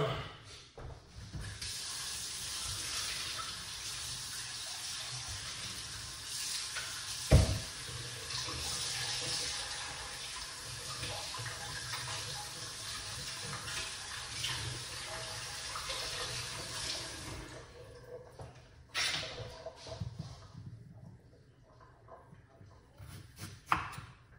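Tap water runs steadily into a sink as garlic cloves are washed for a blood pressure tea, a continuous close splashing rush with a brief knock partway through, easing off near the end.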